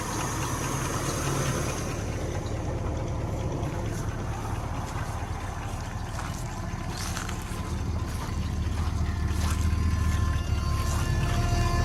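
Engine of a 1969 Buick Skylark project car running steadily with a continuous low rumble, close and fairly loud, swelling a little toward the end.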